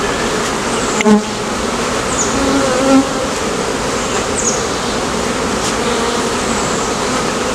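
Honey bee swarm buzzing at a home-built hive during a swarm rescue, a dense, loud, continuous hum with individual bees whining past close by.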